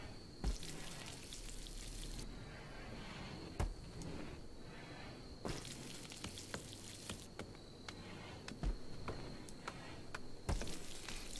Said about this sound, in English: the sound of the cooking is meant to be like a pan sizzling